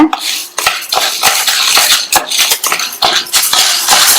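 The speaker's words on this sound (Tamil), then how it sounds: "மீடியம் ஃப்ளேம்ல வச்சு இந்த உளுந்து பொன்னிறமா வர வரையும் வறுத்துக்கணும்" White urad dal is dry roasted in a pan over a medium flame for idli podi, with a spoon scraping and rattling the lentils in quick, uneven strokes, loud and near.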